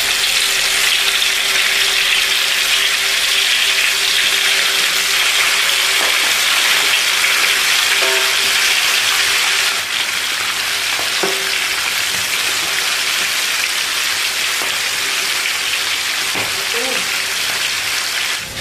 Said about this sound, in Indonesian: Bismillah, kita goreng ayamnya.